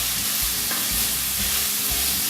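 Prawns and chorizo sizzle and fry steadily in a pan for linguine, a continuous close hiss with light stirring scrapes and no talking.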